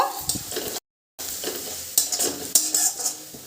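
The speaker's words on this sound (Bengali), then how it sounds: "মুগের ডালটা একটু ভেজে নেব।" Moong dal is stirred and fried in a pan with hot oil, a close sizzle broken by scraping spoon strokes and light metallic clinks, with a brief silent gap partway through.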